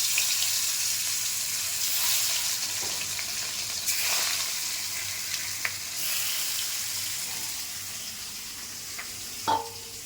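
Rohu fish fries in about a tablespoon of oil in a wok, a strong steady sizzle that fades gradually over time, with a few sharp pops and spatters breaking through.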